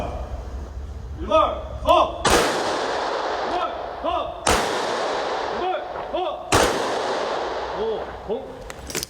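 Three loud, sharp gunshot volleys ring out about two seconds apart during a ceremonial firing, each blast decaying with a long echo, while a voice calls commands between shots.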